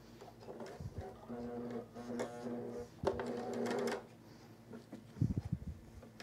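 A coverstitch sewing machine runs in short bursts while stitching a camisole, a close mechanical whirr with rapid ticking that starts, stops and restarts, alongside handling noises and thumps.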